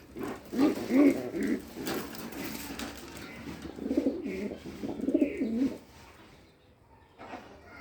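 Red Lotan and Rajgolla pigeons coo in low, throaty bursts, close by and moderately loud, with pauses between phrases and a quieter stretch near the end.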